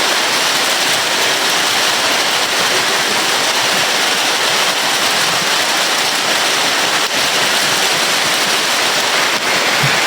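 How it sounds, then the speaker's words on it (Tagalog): Heavy rain pours down in a dense, constant, loud hiss of water hitting surfaces, unbroken for the whole stretch with no voices over it. "Ang lakas ng ulan."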